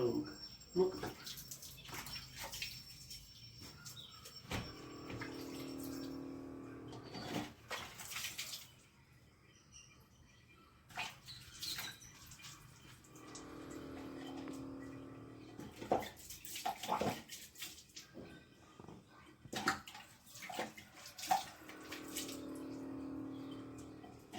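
Water runs from a tap in intermittent gushes during a dog's bath, with pauses and clatter between streams and voices talking over parts of it.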